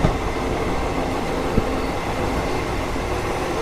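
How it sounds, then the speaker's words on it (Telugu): Krishna Express train running alongside and overtaking a goods train, a steady rumbling rattle of wheels on rails heard from on board, with a couple of sharp clacks from rail joints. "కృష్ణ ఎక్స్ప్రెస్ వచ్చేసి మనకు గూడ్స్ని అయితే ఓవర్టేక్ చేస్తుంది."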